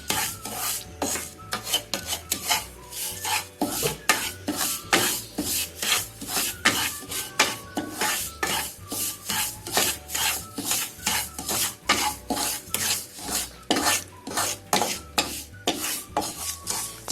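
Semolina stirred and roasted in a pan over low heat, a steady rhythmic scraping and rasping as a utensil sweeps the grains back and forth, close and fairly quiet.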